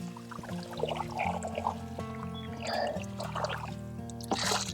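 Water pours onto a newly planted tree, a soft steady splashing stream heard under background music.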